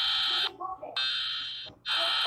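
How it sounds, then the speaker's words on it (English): A high-pitched emergency alert system alarm sounds as loud, shrill tone bursts broken by short gaps, with brief voice-like sounds in between. "Sounds like the United States America alarm, but high pitched."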